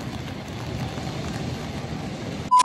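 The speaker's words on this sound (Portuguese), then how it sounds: "Tá chovendo por aqui." Steady rain falls on a street outside a hotel in Zurich, a soft continuous hiss that runs without a break and is cut off by a sharp louder burst at the very end.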